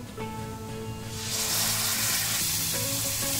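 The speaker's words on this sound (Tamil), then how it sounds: "சேர்த்துட்டு இந்த தேங்காவோட நல்லா ஃப்ரை பண்ணி விடுங்க" Ground coconut paste frying with masala in a pan for a green bean stir-fry, a close sizzle that swells into a louder, brighter hiss partway through, with light stirring.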